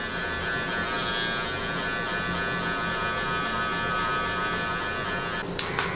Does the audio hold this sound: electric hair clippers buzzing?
yes